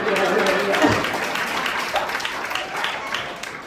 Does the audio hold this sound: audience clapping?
yes